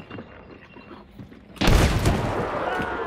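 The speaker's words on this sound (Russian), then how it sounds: "Взрывной патрон." A loud explosive-round gunshot in Hunt: Showdown bursts in at about 1.6 seconds and rings into a sustained roar after a quieter stretch of faint ambient game sound.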